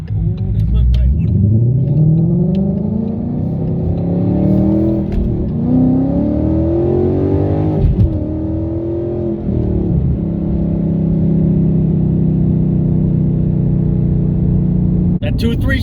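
A car with a stock MT82 manual transmission and about 125,000 miles accelerating hard through the gears. The engine note climbs repeatedly, with clear dips at each shift, then settles into a steady drone, heard from inside the cabin.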